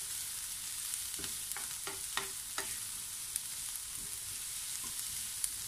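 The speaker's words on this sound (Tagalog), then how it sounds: "Saka po natin siya haluin." Fried pork belly and green beans sizzle steadily in a hot pan, with several close, sharp clinks and scrapes as a utensil stirs them.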